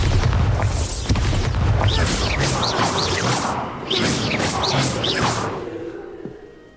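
Repeated blasting explosions from the Bombarda spell in Hogwarts Legacy, heavy booming bursts with whooshing tails that roll one after another and fade out at the end.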